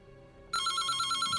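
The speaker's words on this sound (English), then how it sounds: "The phone rings, cutting her off." A telephone in the Reverse 1999 video game starts ringing abruptly after a quiet moment, a bright, fast-trilling electronic ring that holds steady and close, with no talking.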